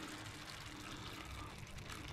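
Starchy pasta water is poured into a pan of simmering puttanesca sauce, giving a steady close, broadband hiss and sizzle of liquid hitting hot sauce for a couple of seconds, with no voices.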